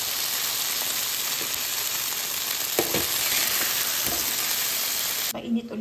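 Eggplant sizzles in hot oil in a pan for a Filipino stir fry, a close, steady crackling hiss with a few stirring knocks, cut off abruptly near the end.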